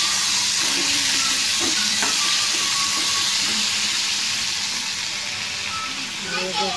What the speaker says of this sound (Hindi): अब इसमें मैं आम डाल दी, इसे मैं भूंज लूंगी।